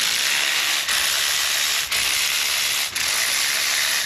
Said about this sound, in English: grab a spark plug socket and pop all 4 of these plugs out